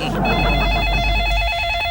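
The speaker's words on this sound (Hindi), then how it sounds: "जरूर सुष्मिता का ही फोन।" A telephone rings with a steady electronic tone over a low background hum, and voices can be heard briefly at the start.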